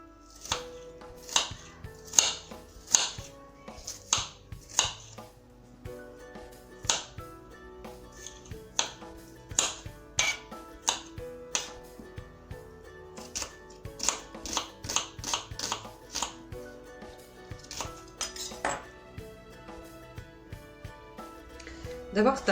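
Knife chopping tomatoes and onion on a board for Turkish pide, sharp rhythmic taps in quick bursts with short pauses, fairly close, over faint background noise.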